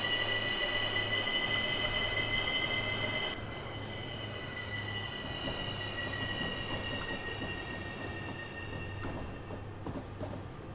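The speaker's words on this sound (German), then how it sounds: "also der Zug, der ist schon wirklich sehr laut. Was der hier am rumquietschen ist." Wheels of a train in Train Simulator 2020 on the Seefeld in Tirol route squeal with high sustained whines over a steady rolling rumble, loud and continuous, easing slightly partway through.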